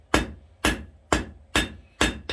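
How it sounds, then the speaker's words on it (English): A hammer strikes metal on an anvil five or six times in a steady rhythm while forging a wall hook, each blow ringing sharply up close. "when you're hitting from the top, the anvil is also doing work on the bottom"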